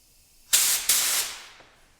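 A 3M Performance spray gun sprays onto a sheet of paper in two short, loud hissing bursts, the second trailing off gradually into silence.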